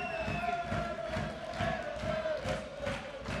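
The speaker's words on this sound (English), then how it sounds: "Look at that crowd just trying to get the last bit of energy out of their team" A crowd cheers and chants at a korfball match in a sports hall, the noise rising and falling in rhythmic bursts over a steady roar, with faint ball bounces and other sounds beneath.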